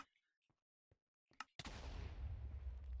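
A cannon fires in a Dungeon Planet CosmicPvp video game. After a few faint clicks and short taps, it lets out one sudden loud blast that rolls into a sustained rumbling, crackling roar.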